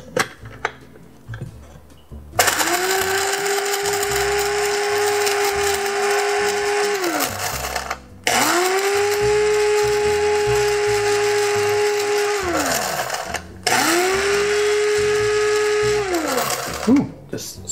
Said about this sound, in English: I am putting the cinnamon sticks in my coffee grinder.